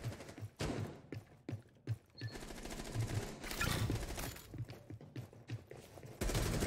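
Rapid automatic gunfire bursts from the video game Rainbow Six Siege, repeated volleys in quick succession with short gaps, loud and dense, with occasional thumps between bursts.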